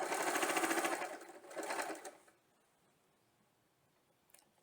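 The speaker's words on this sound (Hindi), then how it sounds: "Start stitching from the edges of the zip, zip के बिल्कुल किनारे पर इस तरह से स्टिच कर देंगे।" Sewing machine stitching along the edge of a zip, a close rapid whirring run for about two seconds, then quiet with a faint click near the end.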